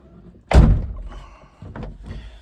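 A vehicle door on a project car being shut, one loud, close solid thunk followed by a fainter secondary knock a moment later, with no speech.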